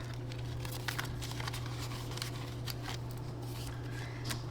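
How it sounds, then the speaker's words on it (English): Paper money bills are handled and slipped into cash envelopes, giving soft papery rustles and crinkles over a steady low electrical hum. "They're gonna go in our 20s envelope."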